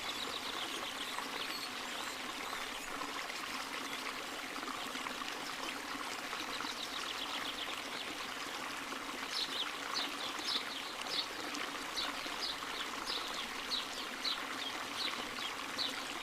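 Water filling a pot from a lake in a cartoon, heard as a steady hiss of trickling, flowing water that runs without pause, with faint bird or insect chirps in the background.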